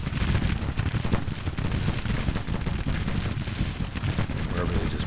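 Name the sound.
artillery and gunfire in American Civil War video game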